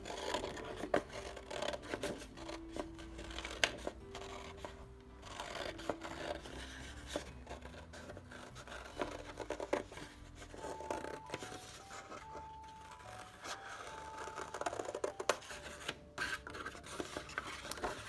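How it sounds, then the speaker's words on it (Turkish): Scissors cutting paper around a drawing of an anglerfish, producing soft, repeated rasping snips and paper rustles at close range, steady and quiet for the whole stretch. "Diş ve fener kısımlarını yapıştırmak için öncelikle etrafından kesiyorum."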